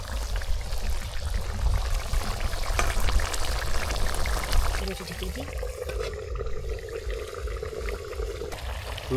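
Cut pieces of a five-kilogram rohu fish are poured into a pot of giant taro curry being cooked village-style, making a steady liquid rush and splash that eases into a quieter simmer.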